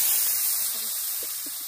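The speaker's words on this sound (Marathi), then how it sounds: "आता थोडस पाणी ओतून घेते." Water poured into cooking masala in a hot pan makes a short, loud burst of hissing sizzle that starts abruptly and eases off slightly.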